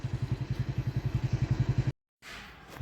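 A motorcycle engine chugs with a steady, even pulse at close range for about two seconds, then cuts off abruptly, followed by a short stretch of softer broadband noise.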